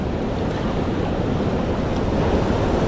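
Waves wash continuously against a rocky Maine shoreline, a loud, steady rush of surf mixed with wind buffeting the microphone.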